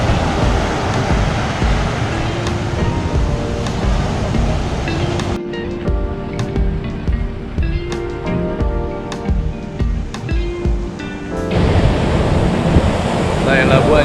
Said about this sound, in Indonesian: Oh, kayak gini pantainya.